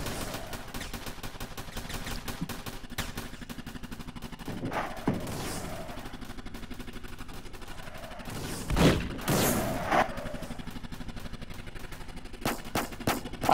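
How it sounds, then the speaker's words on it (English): Roblox battle gunfire: rapid machine gun bursts rattle steadily through the scene, broken by heavier rocket launcher blasts and booms, loud and close with no one talking. "there's kind of a couple guys shooting at me with rocket launchers and machine guns"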